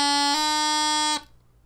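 Bagpipe chanter plays a short note sequence, a D grace note dropping to C, bright and reedy with a sudden clean cutoff after about a second.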